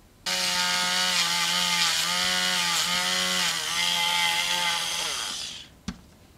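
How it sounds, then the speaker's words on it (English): A Dremel rotary tool with a sanding drum smoothing a metal antenna coil whirs steadily at high speed for about five seconds, its pitch dipping slightly under load, then winds down, followed by a short click. "get the Dremel tool with a sanding drum on and just blend it in to the curve of"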